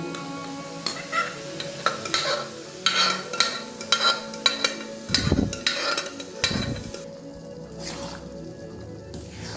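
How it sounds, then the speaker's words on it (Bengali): Boiled peas being stirred into oily cooked spices in a pan, with a series of close wet scraping and squelching strokes over a light sizzle, irregular in rhythm and pausing near the end. "এবার মশলাটার সাথে কড়াইগুলোকেও মিশিয়ে নিচ্ছি।"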